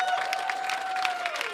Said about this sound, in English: I just want to get a big round of applause for every single person that played tonight.